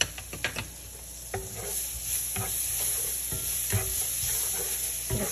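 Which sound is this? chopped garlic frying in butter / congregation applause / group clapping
chopped garlic frying in butter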